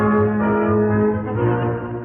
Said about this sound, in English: Have the trumpeter sound boots and saddles.